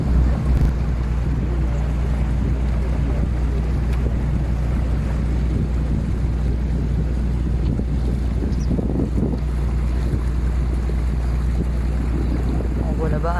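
A boat motor hums steadily on a river trip from Paris toward Honfleur, a low continuous drone running throughout with wind buffeting the microphone.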